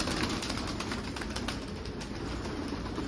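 A pigeon is tossed into the air and flaps away, giving a steady, close fluttering of wingbeats against outdoor noise with no talk.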